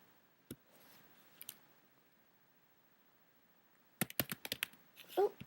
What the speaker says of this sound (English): Oh, I was typing.